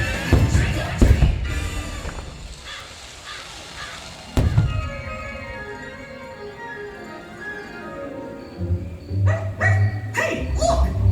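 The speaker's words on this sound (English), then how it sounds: "A dog! It's a ghost dog!" Ghost dog barking during a Halloween fireworks show, a few sharp barks and yips rising out of loud music and booming bursts, spaced irregularly across the stretch.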